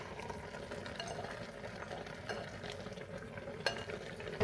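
Onions, bacon and carrots cook quietly in a pot in a home kitchen, with a soft, faint sizzle and occasional light scrapes and clinks of a utensil being stirred, heard alone without voices.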